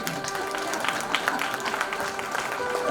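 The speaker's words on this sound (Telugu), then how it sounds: "చప్పట్లు కొట్టండి" An audience at an evening music event applauds, a steady patter of many hands clapping at moderate distance, with a voice faintly underneath.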